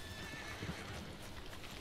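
A horse whinnies in Red Dead Redemption 2 over a low, busy background with hoofbeat-like clopping, short and fairly quiet.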